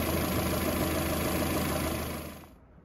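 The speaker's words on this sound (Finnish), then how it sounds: "Ja moottori käy tasaisesti, eikä minkäänlaisia sairaita sivuaineita." A Peugeot 407 engine idles smoothly with a steady, even hum and high-pitched whine that stays constant, then fades away over the final half second, no speech.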